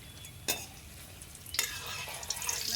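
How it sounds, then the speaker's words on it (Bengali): Prawn, potato and coconut kofta fry in hot oil, a low steady sizzle punctuated by two sharp stirring scrapes, growing a little louder toward the end. "এটাকে এখন ভাজবো, ব্রাউন কালার করবো।"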